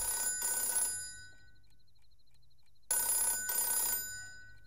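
A telephone bell rings in two bursts of rapid trilling, separated by a quiet pause with a faint steady beep.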